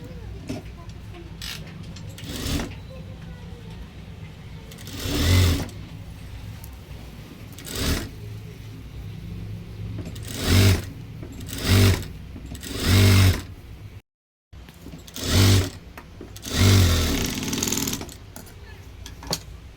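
A sewing machine stitches a blouse in bursts of rapid, loud mechanical running, separated by short pauses and quiet handling.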